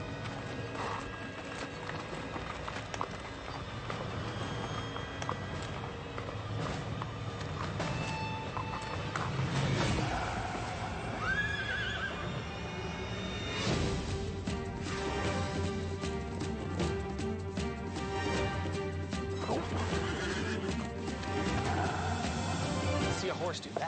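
A horse on a rough wilderness trail, with clopping hooves and a neigh mixed into a busy, layered backdrop of movement and mechanical clatter at moderate loudness.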